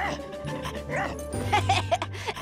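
A cartoon rescue dog gives several short yips and barks with a whimpering edge, fairly close, while music and voices carry on underneath.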